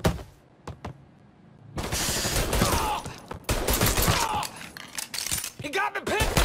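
Gunfire in the video game Mafia 3, with bursts of automatic fire and scattered shots rattling close and loud, broken by a brief lull and mixed with impacts and clatter.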